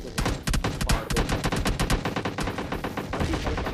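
Gunfire in the PUBG Mobile Lite video game: rapid automatic bursts of sharp shots, loud and close, firing almost without pause.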